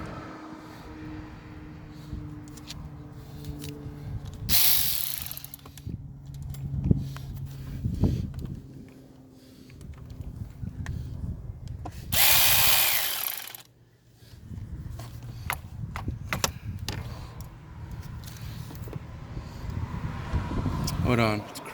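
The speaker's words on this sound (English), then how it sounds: "Took the ratchet. The electric ratchet." An electric ratchet runs in two short whirring bursts, driving a 10 mm bolt on a water pump and thermostat install, close by amid tool clatter and background noise.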